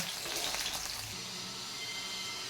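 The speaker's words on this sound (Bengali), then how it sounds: "মাছগুলো আমি উল্টে নিয়েছি, আর একটু ভাজা হবে" Fish frying in a pan, just turned over, giving a steady hiss of crackling oil that drops to a softer, even sizzle partway through. No one talks.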